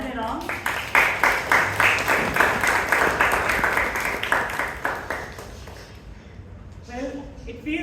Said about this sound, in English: Can we have a big round of applause for our Sergeant-in-Arms?